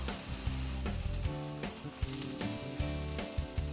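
Achappam batter on a hot mould fries in oil with a moderate bubbling sizzle, punctuated by repeated light taps and knocks of the metal mould, and no speech.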